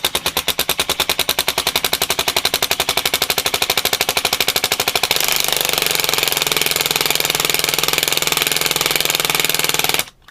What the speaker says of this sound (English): I mentioned I love my little impact wrench